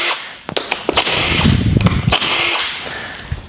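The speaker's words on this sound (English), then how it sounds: "So we're going to remove these bolts here." Lifter tray cover bolts on a GM 5.3 engine are loosened and pulled with a power tool. Bursts of whirring and ratcheting come up close, with metallic clicks and rattles in between.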